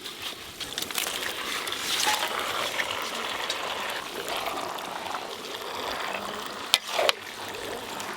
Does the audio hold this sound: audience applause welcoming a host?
no